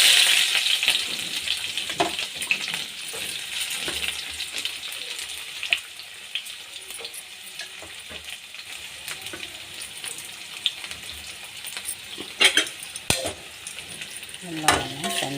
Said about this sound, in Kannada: ಎಲ್ಲವನ್ನು ಚೆನ್ನಾಗಿ ಫ್ರೈ ಮಾಡೋಣ.